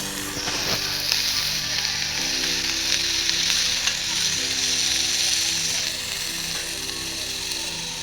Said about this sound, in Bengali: রান্না হচ্ছে আর আমি কড়াইয়ের মধ্যে দিচ্ছি চিকেনটাকে, আর এটা সবাই ঘাটবে